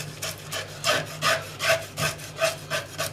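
Small scales being scraped off a red mullet, a rhythmic series of about eight raspy scraping strokes at an even pace, close and moderately loud, with no one speaking.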